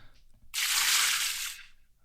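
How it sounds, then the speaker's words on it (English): A short burst of liquid pouring, a bright hissing splash lasting about one second after a brief quiet lead-in, then fading out. "we might want some liquid pouring sound here"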